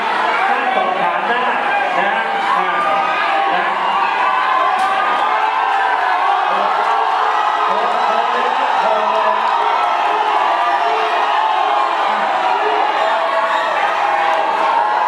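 A large protest crowd at a petroleum drilling forum in Kalasin, Thailand, roars and shouts continuously, many voices blending into a loud, dense wall of noise with scattered cheers and whoops.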